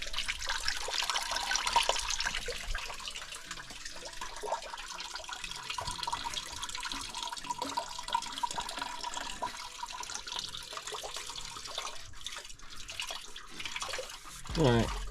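Engine coolant drains steadily out of a Mustang GT engine being removed for a Mach 1 convertible build, a continuous watery trickle and splash lasting throughout, with faint background noise and a brief thump near the end.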